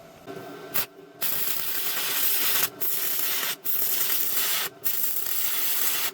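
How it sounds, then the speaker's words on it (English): A stick welder running beads with an E6013 electrode on 2 mm straight steel, producing a loud, steady crackling hiss that cuts out briefly several times between runs. "I'm just going to run a couple of runs down just on straight metal just to kind of get the feel for what stick welding is"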